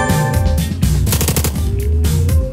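Rapid machine-gun bursts in the video game Long Gone Days, loud and close, firing in repeated volleys over a low game soundscape with no talk.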